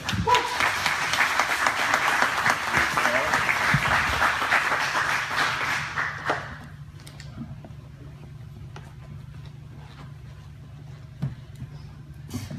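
Audience applause greets a performer taking the stage at a Saturday night music show, loud dense clapping for about six seconds before it cuts off to a quiet room with scattered small taps.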